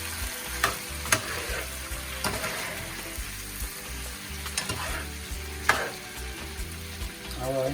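Coconut cream simmering and sizzling in a pot for Jamaican shrimp rundown, with a steady frying hiss and occasional clinks of stirring, close and fairly loud, no talking.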